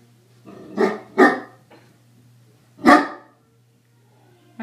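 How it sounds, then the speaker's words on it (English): A Great Dane barks indoors, three loud, deep, close barks: two in quick succession, then a single one after a pause, with quiet room tone between. "My dog wants to go out."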